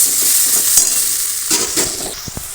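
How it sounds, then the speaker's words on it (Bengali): Spice masala for chicken biryani being sautéed in a pan with a little salt, a loud close sizzle with scraping stirs and a few spatula knocks near the end, and no voices. "এবার একদম ভালো করে কষিয়ে দেবো"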